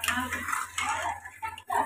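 Custard mixture being stirred in a bowl with a utensil, giving close, continuous scraping and clinking against the bowl, with a steady low hum underneath.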